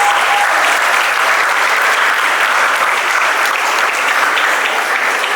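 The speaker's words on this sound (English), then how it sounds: "I'm asking you to give her a special round of applause" Loud, dense audience applause at a school Founder's Day student talent show after a vocal performance, sustained evenly without a break.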